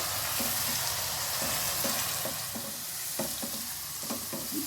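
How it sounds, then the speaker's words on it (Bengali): Ground onion and green chilli paste fries in oil in a pan for a yogurt fish curry. A continuous soft sizzle runs throughout, broken by repeated scraping stirs of a spatula, with no voices. "বাটা পেঁয়াজটা লাল করে ভেজে নেব।"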